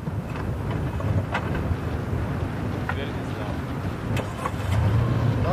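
A car stuck in Sahara desert sand in Senegal, its engine droning and straining under steady throttle, with wind buffeting the microphone and a louder surge near the end. People talk over the engine.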